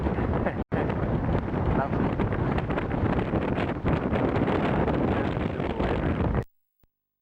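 Strong wind buffets the microphone in a steady, loud roar with no letup until it cuts off near the end, at a fountain in an Australian city.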